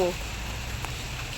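Heavy rain pours onto a street flooded with water, a dense steady hiss that continues evenly after a brief voice at the start.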